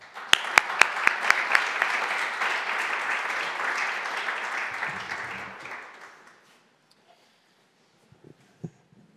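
An audience in a lecture hall welcomes the speaker to a book talk with several sharp early claps that swell into steady applause, which dies away after about six seconds, leaving near silence and a few faint knocks.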